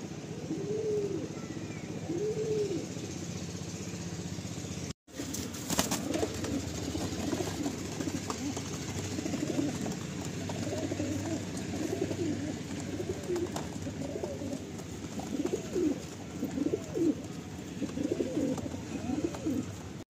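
Madrasi pigeons coo inside a loft, many soft, rolling coos overlapping steadily from several birds at moderate distance, with a brief dropout early on and no talking.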